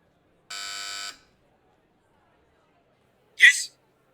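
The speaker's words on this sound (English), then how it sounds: "This is the intercom buzzer of the jewelry shop." Jewelry shop intercom buzzer in a point-and-click adventure game, a single flat electronic buzz lasting about half a second, followed after a pause by a short voiced sound.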